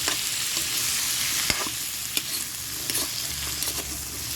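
Potatoes frying in a pan for a corned beef sauté, a steady close sizzle with occasional sharp clicks and scrapes of stirring, no talking.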